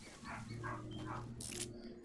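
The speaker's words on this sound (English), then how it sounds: "I think that's my dog." A pet dog barks in a short run of three or four muffled woofs, somewhat distant and fairly quiet, over a steady electrical hum in a room.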